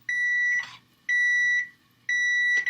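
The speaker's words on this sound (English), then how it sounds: "that's just the timer for the rice, which is turned off after 20 minutes of simmering" Kitchen timer set for simmering rice beeps in three long, steady electronic tones about a second apart, close and fairly loud, with faint cooking noises between beeps.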